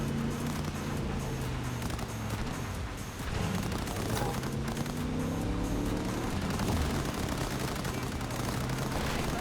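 Rapid bursts of gunfire in Cyberpunk 2077 crackle steadily over a loud, continuous engine drone from a race, with no pause in the shooting across the whole stretch.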